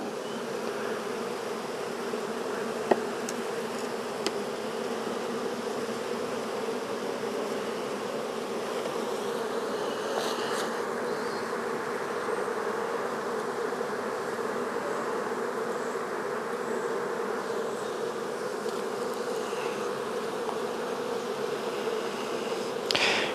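Steady, dense buzzing of many honeybees around an open hive, continuous and even in loudness throughout, with no voices.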